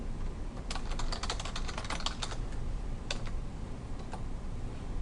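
Typing on a computer keyboard while entering a name into a document header: bursts of quick, light key clicks in uneven clusters, close and fairly quiet over a steady background hiss, no talk.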